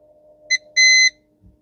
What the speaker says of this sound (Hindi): बीप आ रही है।